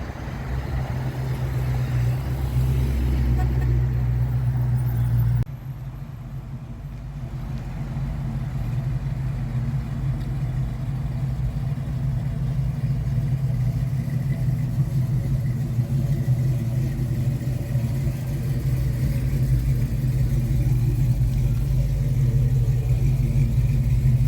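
A parade of classic cars rolls by on a road through a residential neighborhood, giving a steady, fairly loud low engine rumble that continues throughout with no talking.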